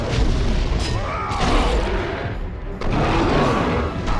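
Bomb thrower's bombs bursting in God of War 2, a string of loud, booming blasts with crashing debris, one around the start and another near three seconds, over constant battle noise.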